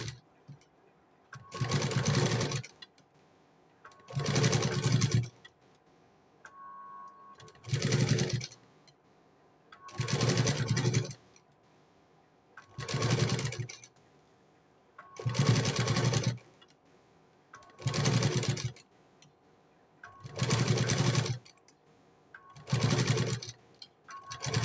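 A sewing machine stitches extra cloth onto padded blouse cups in nine or ten steady bursts of a few seconds each, separated by short pauses, loud and close with no voices.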